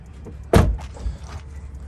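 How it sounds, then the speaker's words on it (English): A car door on an Audi S5 shuts with a single loud thud partway through, followed by quieter rustling and handling sounds, with no talking. "Close the door, open it up"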